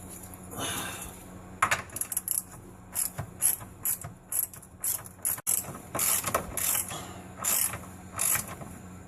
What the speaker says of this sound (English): put a socket up in there and pull that bolt out